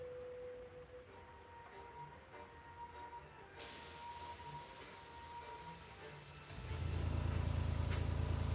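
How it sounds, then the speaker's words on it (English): Airbrush spraying paint, a steady close hiss that turns louder and brighter partway through and then gains a deeper rushing layer near the end, with no talk. "Get some of this overspray off of here."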